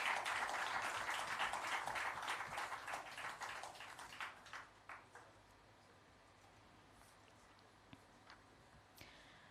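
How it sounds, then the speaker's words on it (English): Audience applause at a book launch event for cricketer Roshan Mahanama's memoir, a dense wash of clapping that is steady at first, then thins into scattered claps and fades out by midway, leaving quiet room noise. "I think he truly deserves another round of applause"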